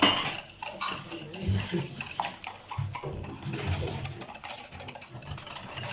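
A whisk or spoon scraping and clinking in a bowl while sugar, salt and vanilla are mixed, steady rhythmic stirring strokes with light metallic taps at close range.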